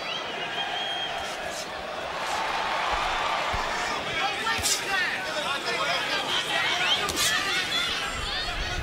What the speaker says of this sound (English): listen to the vociferous crowd as well